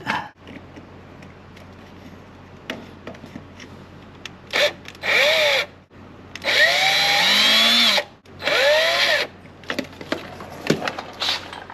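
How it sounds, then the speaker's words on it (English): A power drill whines in several bursts, revving up and grinding as it bites into a broken exhaust manifold bolt on a 2017 Ram 1500 5.7 Hemi, with clicks and handling noise between runs. "let's see how this goes and hope I can get this drill in here straight"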